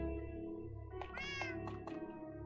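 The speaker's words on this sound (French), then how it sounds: "J'ai réussi à trouver un vrai chat noir" A black cat gives a single drawn-out meow with a rising and falling pitch, fairly close, over a steady low background hum.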